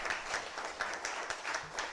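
A seminar audience at a GST reporting session gives brief, fairly faint applause, a steady patter of many hands clapping with no one speaking.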